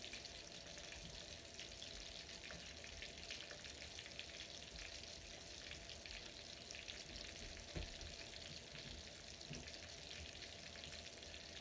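Jumbo shrimp frying in hot oil, a dense, continuous bubbling sizzle that stays steady and even throughout, heard close up with no voices and only a faint click partway through.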